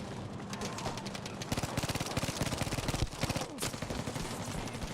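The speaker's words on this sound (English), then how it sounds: "A whole mag and it doesn't even kill. That's how bad the MP40 is." An MP40 submachine gun in a video game emptying a full magazine, a long, rapid, evenly spaced burst of shots, fairly close and steady, ending in a brief pause.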